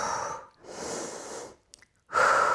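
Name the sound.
calm breathing in and out during yoga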